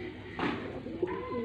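A Faisalabad pigeon gives a soft, low cooing call close by, with a faint rustle just before it.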